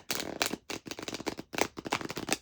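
A deck of tarot cards being shuffled by hand, giving repeated bursts of riffling and flapping in quick, uneven rhythm, close and fairly loud, with no talking.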